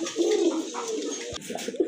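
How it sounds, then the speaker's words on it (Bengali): A pair of grizzle pigeons coo at a pigeon sale, with low, throaty, rolling calls that repeat steadily up close over a faint background hiss. "আর এক জোড়া গ্রিজেল কবুতর দেখতে পাচ্ছেন আপনারা"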